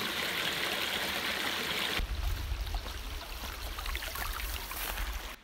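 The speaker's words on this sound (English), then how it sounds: "I'm next to a creek." A creek flowing beside a truck campsite, a steady close rush and babble of water that shifts into a deeper, rumbling wash partway through.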